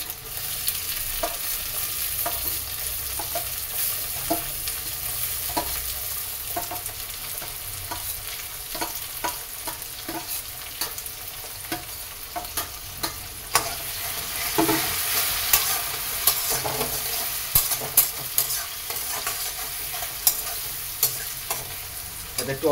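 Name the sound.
frying chillies and tomato in a pan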